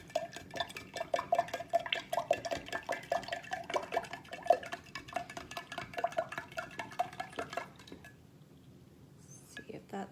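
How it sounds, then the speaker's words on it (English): A spoon scrapes and clinks around a bowl, stirring a liquid mixture for a jumping corn science experiment in quick, repeated strokes up close, then stops near the end. "Stir it just a little bit more."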